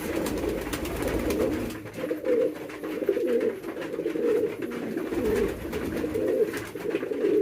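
Red mukkhi pigeons coo repeatedly while they wait to be fed, with low, throaty, overlapping calls in a steady rhythm, close by and fairly loud.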